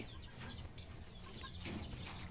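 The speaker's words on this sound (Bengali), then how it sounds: "আর এগুলো হচ্ছে কি আমাদের দেশি মুরগি" Native village chickens cluck softly and continuously on a small poultry farm, a low murmur of several birds close by with no clear voices over them.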